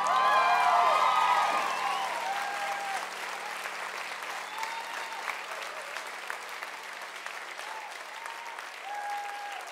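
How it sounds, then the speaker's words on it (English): Concert audience clapping at a live show, dense applause and scattered cheers swelling at first then settling into a sustained, slightly quieter wash of hand claps. "Please stop clapping"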